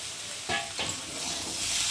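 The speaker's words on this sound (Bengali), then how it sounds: "সেদ্ধ করে রাখা সয়াবিনটাকে আলুর সাথে আবার একটু ভালো করে কষিয়ে নেব" Boiled soybean chunks and potatoes are stir-fried with spices in a pan, giving a steady hissing sizzle broken by two quick stirring scrapes.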